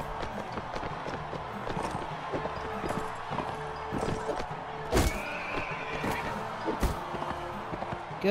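A horse in the Mount and Blade: Warband video game whinnies amid a battle, with hoof clip-clops, thuds and clashing impacts, including sharp strikes near the middle and end.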